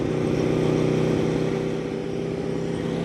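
An Aprilia sport motorcycle cruising at low speed around 25 mph, a steady droning engine hum with wind rumble, constant and close throughout.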